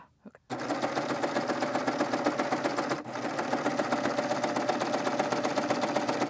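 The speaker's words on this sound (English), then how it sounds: "I have to be careful I don't sew over any of these pins." A sewing machine runs fast and steady, stitching a stretch velvet dress with a rapid, even mechanical chatter that holds loud and close for several seconds after a brief pause at the start.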